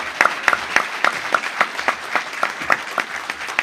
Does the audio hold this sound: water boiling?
no